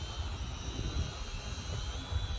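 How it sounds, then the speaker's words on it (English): A small SYMA X220W GPS drone's motors hum with a steady high-pitched whine, while wind rumbles low across the microphone. "Pretty awesome little flyer, GPS drone."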